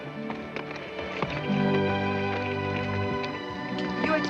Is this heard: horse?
yes